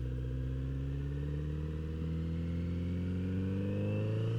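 A Kawasaki Z900 RS motorcycle pulls hard in second gear up a freeway on-ramp, its engine note rising steadily in pitch as it accelerates, loud and close throughout with no talking.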